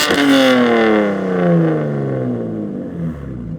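A BMW M2 with a modified exhaust roars loudly at startup, its throaty revs sweeping down into a steady, rumbling idle with a raspy exhaust note.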